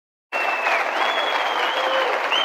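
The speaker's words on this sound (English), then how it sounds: "That is the CPAC crowd." Conservative CPAC conference crowd applauding in a large hall: dense, loud, continuous clapping that starts abruptly and holds steady, with a few whistle-like cheers rising above it.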